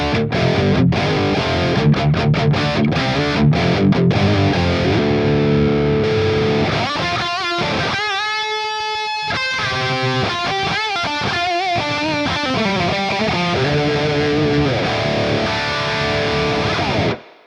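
Electric guitar played through a Hotone Ampero II Stomp preset of a drive pedal and reverb block, loud and distorted, moving from rapid chugging rhythm to sustained ringing lead notes with reverb tails, alone without talk.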